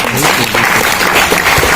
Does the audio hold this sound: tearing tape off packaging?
no